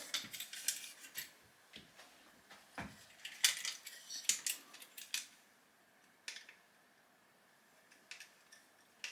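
A spanner tightens a nut on a Tamiya 1976 Porsche 934 RC car chassis with lock washers, heard as close, irregular metallic clicks and scrapes in short bursts with quiet gaps between them.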